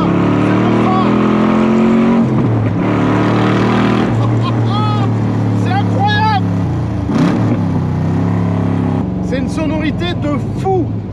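A 56-year-old Corvette C2 with a 375 hp V8 under way, its engine droning loudly in a rumbling roar with rising and falling revs; a voice talks over it in places.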